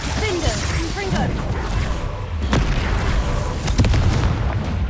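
Confringo explosion spell going off in the Hogwarts Legacy video game, a booming blast with crackling bursts over a continuous rumble of game sound, with a voice talking throughout.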